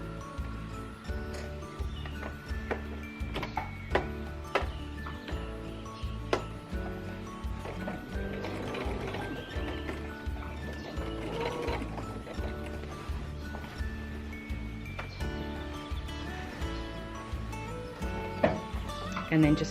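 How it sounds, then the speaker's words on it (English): A sewing machine stitching binding onto a quilt produces rapid, rhythmic mechanical clicking and whirring in repeated bursts, fairly quiet, with a voice speaking at times over it. "So turn your quilt and start sewing down here, and you can just sew right from the edge all the way down."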